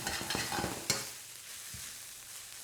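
Rice for seafood fried rice is stir-fried in a hot pan. The spatula scrapes and clatters in quick strokes to break up clumps over a continuous close sizzle, and the scraping eases after the first second.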